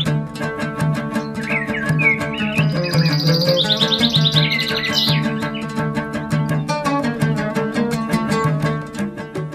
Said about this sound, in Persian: گوش دادن به صدای پرندگان، باغ عفیف‌آباد تو را می‌خواند.